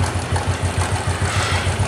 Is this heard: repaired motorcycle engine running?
yes